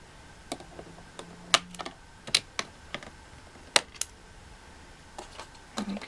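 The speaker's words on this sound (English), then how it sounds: "I'm going to use the scissors to just cut him free." Scissors cut the packaging ties holding a Zoomer Playful Pup toy: sharp, scattered snips and clicks, several separate crisp cuts spaced irregularly, close by and fairly quiet between them.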